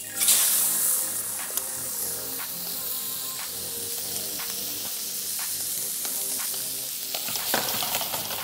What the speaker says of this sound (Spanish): Para que termine ya de sellar y de caramelizar nuestro delicioso plato.